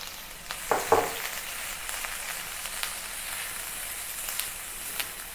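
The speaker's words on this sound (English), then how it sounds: "Continue saute until it becomes fragrant" Green onion, minced garlic and ginger, and dry chili sautéing in hot oil in a pan, giving a steady soft sizzle with a couple of brief stirring clatters near the start.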